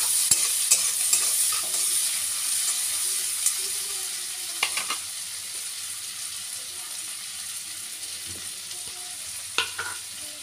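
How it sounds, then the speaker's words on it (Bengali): Green chillies fry in a pan with a steady close sizzle, while a spoon stirs them with occasional scraping clinks against the pan. "তো এবার এটা ভালো করে নেড়ে চেড়ে নিব"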